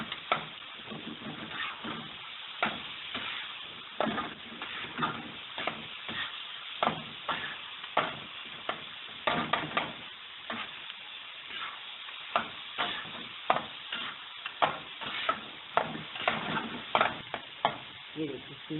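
Minced meat (keema) cooks with softened tomatoes in a pan at home, its steady frying sizzle broken by repeated scraping stirs in an uneven rhythm, close and moderately loud with no talking.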